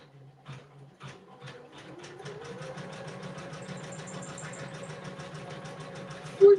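A sewing machine runs an E stitch during a rhinestone craft project, starting with a few short separate bursts and then settling into a steady, continuous rhythmic whir that ends with a brief louder knock.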